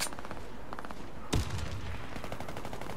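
A single sharp, loud shot from a Sig Sauer 226 pistol in a video game cracks out near the middle, standing above a steady background hum with no other shots following.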